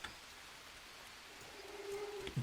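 Rain in the survival video game Green Hell patters steadily as a soft, diffuse hiss, with a faint birdlike tone rising near the end.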